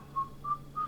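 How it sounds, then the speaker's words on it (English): Three short, soft whistled notes rise over a quiet background hum in a setting of fast online bullet chess play. "Nice whistling, cheerful."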